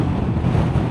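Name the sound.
strong wind during motorcycle ride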